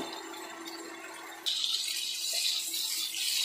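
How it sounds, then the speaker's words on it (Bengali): Shrimp fry in hot oil, a dense hiss that swells suddenly partway through and stays steady and close, with a faint low hum underneath and no talking. "চিংড়ি মাছটা ভালো করে ভেজে নেব।"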